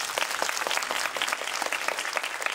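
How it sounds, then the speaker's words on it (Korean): A cinema crowd at a film talk event at Megabox COEX in Seoul applauds: sustained, busy clapping from many hands, loud and even throughout, with no talking. "박수 한번"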